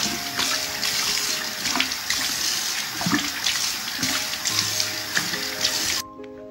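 Water runs steadily from a tap into a sink while a face mask is washed off, a continuous splashing hiss with small shifts in flow, cutting off abruptly near the end.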